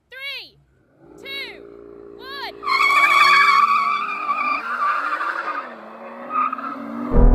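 Car launched hard from standstill in first gear: after short chirps and an idling engine, a sudden loud tire squeal and rising engine roar, with voices talking over it.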